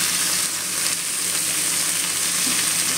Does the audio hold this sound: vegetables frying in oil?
yes